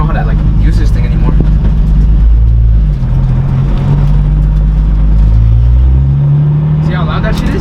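Loud, rumbling car engine with mounts that transmit heavy vibration, driven on new slick tires, revving and shifting pitch while someone talks over it.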